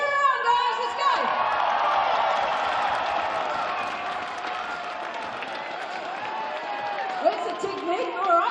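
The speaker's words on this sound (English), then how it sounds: "All right, cheer on, guys." A basketball game crowd in an indoor arena cheers and whoops loudly and continuously, with scattered claps and voices mixed into the din.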